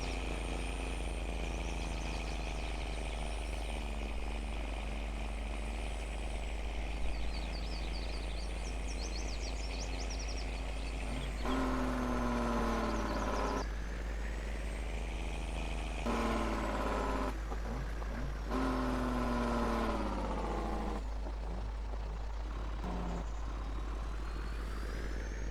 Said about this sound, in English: I don't think I'm gonna use this truck anymore. It's just too loud.